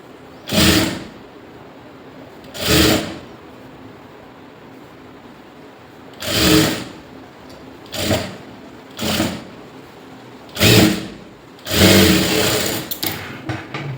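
A sewing machine stitches the lining of a blouse in a series of short, loud whirring bursts, about seven in all, separated by pauses, with a longer run near the end followed by faint clicks.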